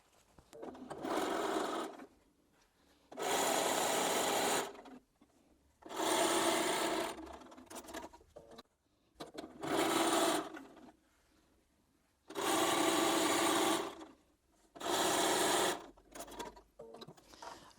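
Sewing machine stitching quilt block strips together, running in six bursts of rapid, even mechanical whirring separated by quiet pauses.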